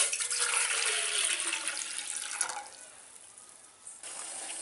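Water from a glass pours into a cooking pot on a stove while drumstick leaf soup is being made, a close splashing rush that thins out partway through.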